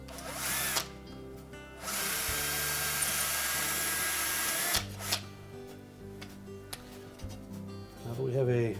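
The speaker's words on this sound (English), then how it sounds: "we're going to drill a hole in that location that we've marked" A power drill bores a new mounting hole in Kenmore refrigerator housing for a condenser fan motor, whining loudly in two sustained bursts with a brief pause between, followed by lighter handling clatter.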